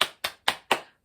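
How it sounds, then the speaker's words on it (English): Four sharp hand claps in a quick, even rhythm, close and clear, each ringing briefly before the next. "And clap your hands."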